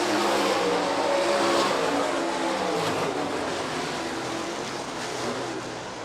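Sprint cars and late model race cars at Rapid Speedway during a heat race, a dense continuous roar of engines at speed, loud and sustained throughout with no pauses.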